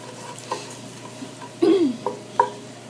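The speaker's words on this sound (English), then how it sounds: "I'm going to use my wood spatula to be able to take some of that glaze off of the base." Wooden spatula scraping melted glaze off the base of a hot pan while cooking Cuban oxtail, giving a few short scrapes and stirs over a soft sizzle, one louder scrape near the middle, with no talking.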